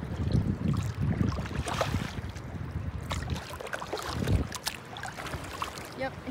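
A person paddles a small boat on open water outdoors, with soft splashes and strokes under steady wind rumble buffeting the microphone.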